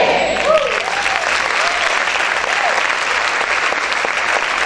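A church congregation clapping loudly together, a dense, sustained wash of applause with steady intensity, with a few faint tonal sounds briefly rising through it.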